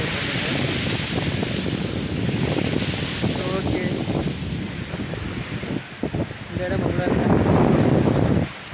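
Sea surf and gusting wind at Point Pedro on the northern tip of Jaffna, Sri Lanka: a steady, loud wash of waves and blustery wind noise across the whole stretch, with a strong surge near the end.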